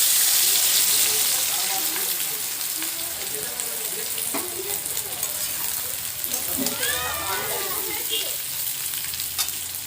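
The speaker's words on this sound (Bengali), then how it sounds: "আমি পেঁয়াজের বেরেস্তা করে নেব।" Sliced onions frying in hot oil in a kadai for birista, a dense continuous sizzle close up with occasional stirring scrapes, and a voice talking briefly over the cooking.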